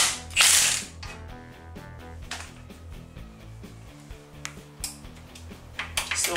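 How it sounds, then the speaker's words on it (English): Torque wrench and ratchet clicking in uneven bursts while tightening a bolt on a 2-inch offroad lift kit, with metallic knocks and rattles between the clicks. "We're going to get it tight and then torque it with our torque wrench."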